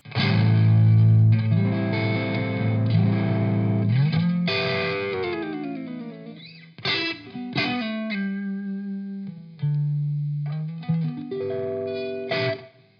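Electric guitar on the neck pickup through a Wampler Plexi Drive Mini overdrive pedal, gain halfway, plays chords and single-note lines with a warm, crunchy classic rock tone, loud and continuous with brief pauses between phrases.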